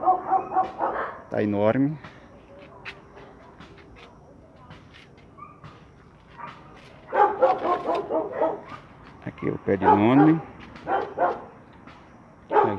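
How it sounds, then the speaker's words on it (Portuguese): Dogs bark in short bursts in the background, some sharp yips among them, while a person talks nearby over the noise. "os cachorros agora começou a latir"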